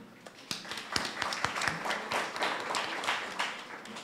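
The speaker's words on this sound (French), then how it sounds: "Merci de l'applaudir" Scattered audience applause for a speaker at a French-language lecture on intellectual property and the economy, a modest crowd clapping at moderate distance in a sparse, uneven patter that stays fairly quiet throughout.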